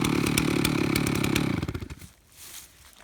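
A chainsaw mill's two-stroke engine runs loud and close with a steady idle clatter, then sputters and dies out after about a second and a half, leaving near silence.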